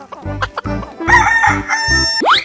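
A cartoon chicken in a playful 3D animal animation gives a run of loud, rhythmic clucks and a crowing call over a bouncy backing beat, ending with a rising whistle sweep.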